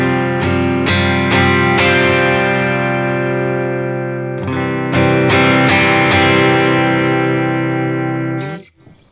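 Distorted electric guitar played through a Line 6 Helix with an exotic boost pushing the amp into breakup: sustained chords struck about eight times, loud and alone, ringing out before a brief fade at the end.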